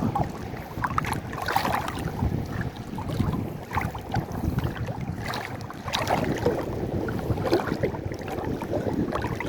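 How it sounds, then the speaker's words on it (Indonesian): Strong wind at a shallow fishing spot buffets the microphone in continuous rough gusts, a loud blustery roar with no one speaking. "Cuma anginnya kenceng sekali nih"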